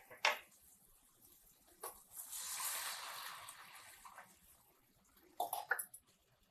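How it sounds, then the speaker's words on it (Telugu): A glass of water is poured over raw mango in a cooking pot for mango dal, giving a soft rushing splash for about a second amid faint kitchen clatter and a few sharper knocks. "ఇప్పుడు ఒక గ్లాస్ నీళ్లు పోసి మూత పెట్టేస్తాను."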